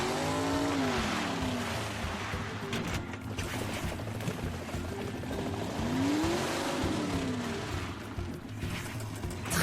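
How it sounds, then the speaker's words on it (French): Zuma's hovercraft in a Paw Patrol video game gives a steady whirring engine drone over skimming water, with cartoonish sliding tones and game music underneath. "Nous avons besoin que Zuma utilise son aéroglisseur."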